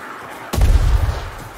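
A single sharp, heavy arquebus shot booms in Warhammer: Vermintide, followed by a rumbling low tail that fades over about a second.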